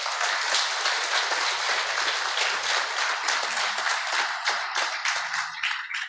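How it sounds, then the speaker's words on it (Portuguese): A church congregation claps during a sermon, a full, continuous wash of applause with scattered individual claps standing out as it thins toward the end. "Quem pode aplaudir o Senhor?"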